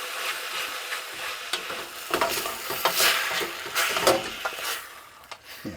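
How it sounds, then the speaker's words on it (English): Minced meat for a ragu sizzles in a pan while being stirred, a steady frying hiss with scraping and clattering spoon strokes that grow busier midway, close and fairly quiet. "Give that all a good stir up."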